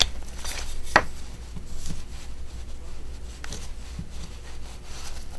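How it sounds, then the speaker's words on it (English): A knife cuts around the mouth of a trapped animal's pelt, producing quiet rubbing and slicing sounds with a few sharper close-up clicks against a low steady background hum. "Mouth, we take our knife and cut in like that."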